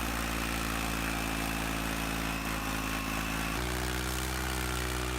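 A Ford 4610 tractor engine labors under a heavy load pulling a trailer of animal feed. The low, droning, harmonic-rich rumble is steady and loud, then drops abruptly in pitch partway through as it strains harder.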